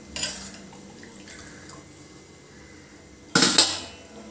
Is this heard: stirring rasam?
yes